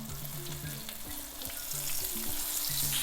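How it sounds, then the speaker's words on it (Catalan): Cod pieces laid skin-side down into hot oil in a pan, giving a steady close sizzle and crackle of frying that swells slightly louder toward the end, with no voices. "ja tenim l'oli calent, anem a posar el bacallà"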